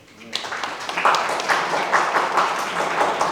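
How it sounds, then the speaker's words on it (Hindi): Scattered audience clapping in a seminar hall during a real-estate training session, moderately loud and uneven, with bursts building after a short quiet start and no speech over it. "तो तालियां तो बजाएं यार।"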